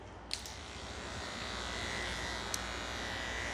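An Andis electric clipper with a number 1 comb hums in a steady, close, continuous buzz while trimming a Yorkshire terrier's head, with a couple of faint clicks.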